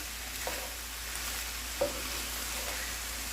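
Nacho filling cooking in a pan on medium-high heat, a faint steady sizzle with a couple of soft scrapes or taps, no talking.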